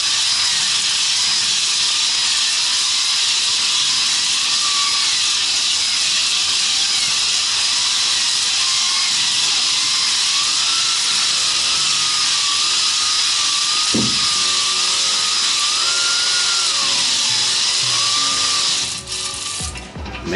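Cylinder bores of an RB30 engine block being honed, a steady whirring, hissing machine drone running loud and continuous throughout, with a faint wavering tone on top and a brief knock near the end.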